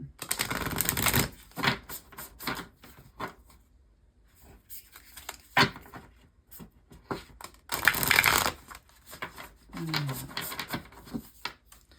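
Tarot cards are shuffled in repeated bursts of crisp riffling and flapping, close and fairly loud, separated by quieter pauses with light handling noises.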